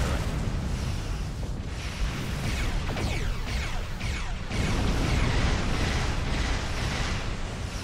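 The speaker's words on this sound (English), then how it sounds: "Ship explosions cause damage" Starship explosions in the Star Trek Online space battle, a dense continuous roar of booming blasts with overlapping bursts and crackling debris, loud and sustained with no pauses.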